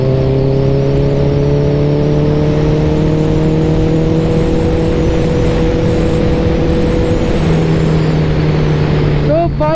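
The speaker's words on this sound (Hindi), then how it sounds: "अभी मैंने 15 पे बाइक को पुल किया, थोड़ा स्ट्रगल उतना इंजन होता ही है" Honda CBR650R motorcycle engine lugging in high gear at low speed, a steady loud drone with layered harmonic tones that hold nearly constant and dip slightly near the end, continuous throughout.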